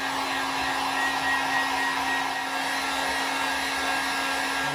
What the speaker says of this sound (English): I got the heat gun here. I'm just going to apply a little bit of heat